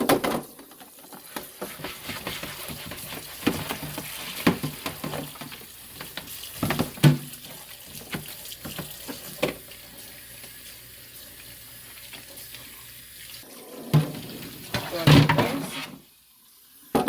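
Tap water runs steadily into a kitchen sink for a long stretch, with clattering and splashing as chicken is handled under the flow before the stream cuts off near the end.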